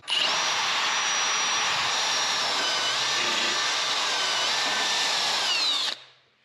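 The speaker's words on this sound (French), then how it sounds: "une espèce de brosse métallique qu'on va mettre sur une visseuse" A wire brush spinning on a cordless screwdriver while polishing car parts from an Audi R8 taxi, giving a loud, steady high-pitched whine with a scratchy abrasive edge that runs continuously for about six seconds, then stops.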